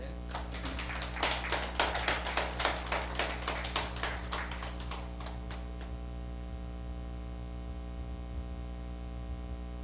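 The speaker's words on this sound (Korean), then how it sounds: "박수 한번 크게." A small audience at a pioneer-school lecture claps for a visiting laywoman from Suwon: a brief burst of rhythmic hand claps that fades after several seconds, over a constant electrical hum.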